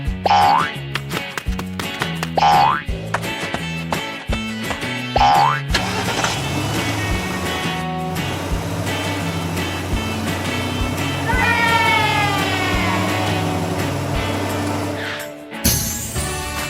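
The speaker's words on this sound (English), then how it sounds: "The whole family quickly got ready, hopped into the car, and set off." A cartoon car from a Peppa Pig animation drives off with bouncy, springy boing effects over upbeat music, then a steady engine hum and whooshing motion build under the score.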